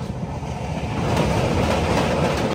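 The Devagiri Express, running from Secunderabad to Mumbai CSMT, rumbles steadily along the tracks with a dense, continuous roar and faint clickety-clack, close and loud with no voices.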